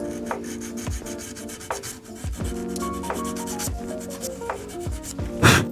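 800 grit sandpaper rubs against a Gibson ES-335 guitar in repeated rhythmic strokes, close and distinct, with background music underneath and no talking.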